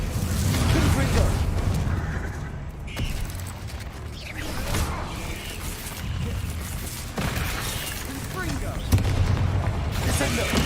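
Repeated Confringo blasting curse explosions in Hogwarts Legacy, heavy booms and crackling blasts in a long, loud, continuous combat din with several sharp impacts and dips, under scattered voices.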